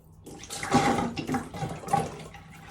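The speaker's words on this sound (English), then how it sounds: "Let me pump out the water from the red tank." Water being pumped out of a red tank in a DIY float valve setup, heard as close gurgling and splashing surges in uneven pulses, moderately loud with no talk.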